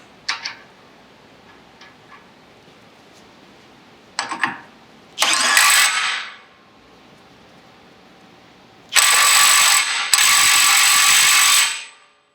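Power tool driving a castle nut onto a 2018 Honda Civic Si CV axle, a few short clicks followed by two sustained loud whirring bursts separated by pauses and near silence.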